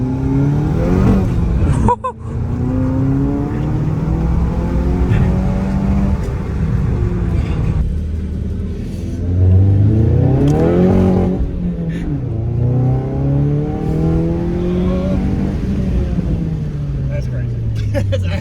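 Volkswagen Mk7 GTI with an aftermarket mod accelerating hard through the gears, the engine note rising and falling under loud in-car talk and exclamations, with a brief cut at the rev limiter.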